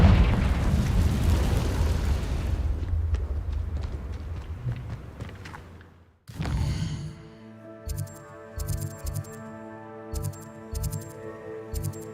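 A Confringo spell explosion in the Hogwarts Legacy video game: a loud rumbling blast that slowly fades, then a sharp burst followed by rhythmic thumping and bright chiming game sounds.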